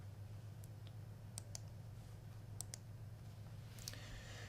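A computer mouse clicks several times at an SEO tutorial desk, sharp, faint ticks spaced irregularly over a steady low hum, ending with a quick cluster of clicks.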